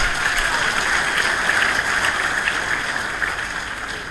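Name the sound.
audience applauding the university rector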